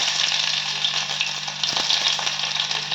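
Onions frying in hot oil give a steady, bright, close sizzle throughout, with a few small pops and a faint low hum beneath and no talking.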